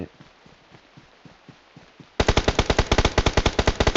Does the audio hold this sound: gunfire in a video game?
yes